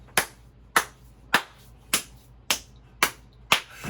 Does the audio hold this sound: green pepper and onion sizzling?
no